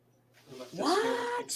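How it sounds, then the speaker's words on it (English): A house cat lets out a single drawn-out meow, close and clear, overlapping a person talking nearby. "That's my cat."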